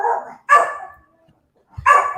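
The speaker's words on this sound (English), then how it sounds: "oh, there's my dog." A dog barks twice, close and loud, in separate bursts with a quiet gap between them, and no talking over it.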